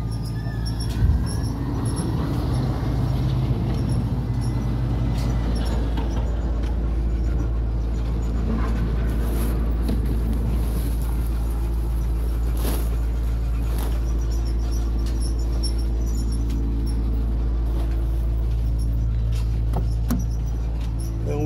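A loaded quarry truck at a stone quarry in Manchester, Jamaica, drives out toward the scale, its engine a steady heavy rumble throughout with rattles and clunks over the top, close and loud, with no talking.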